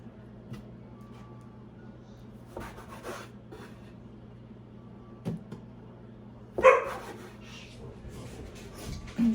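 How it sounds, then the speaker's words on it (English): A few short dog barks ring out sporadically in a quiet room, one sharper burst standing out near the end of the stretch. "Pardon the dogs."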